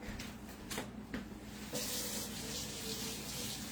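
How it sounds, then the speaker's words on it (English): Tap water gushes into a sink to rinse dough-covered hands in a home kitchen, a steady close hiss that starts after a few brief knocks and splashes and runs on without talk. "I'm going to rinse my hands right quick."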